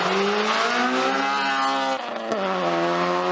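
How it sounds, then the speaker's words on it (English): A K20-swapped 1996 Honda Civic hatchback race car engine revs hard in second gear and climbs in pitch into the VTEC crossover, briefly dips at a shift, then keeps pulling with a loud, raspy tone. "Trying to roll into the VTEC in 2nd gear so you guys can kind of hear the crossover."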